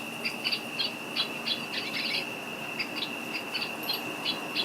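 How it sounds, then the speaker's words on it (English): Pet lovebirds give short, high chirps in quick irregular bursts over a faint steady hum, close by and without speech. "If you pet them, they chirp."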